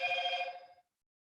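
A phone rings with one short electronic trill that stops abruptly after under a second, heard alone and fairly loud in an indoor craft workspace.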